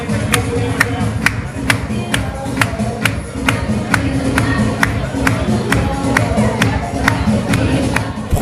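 Crowd at a festival pageant cheering, shouting and applauding as a line of ten female contestants is welcomed onstage, a dense steady roar with sharp claps and whistles throughout, loud and continuous.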